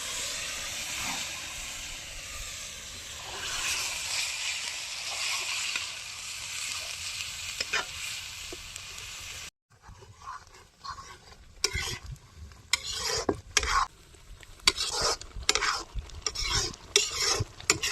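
Blended onion and tomato paste hits hot oil for a dhaba-style chicken curry, hissing in a loud, steady sizzle that abruptly gives way to quieter crackling and the clatter of stirring in the pan.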